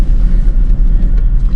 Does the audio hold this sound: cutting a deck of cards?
no